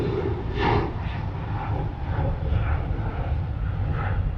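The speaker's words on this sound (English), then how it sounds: "let's wait for the plane" A fixed-wing airplane passes overhead above a quarry, its engine a steady, broad rumble that swells slightly early on and holds at moderate loudness throughout, with no talk over it.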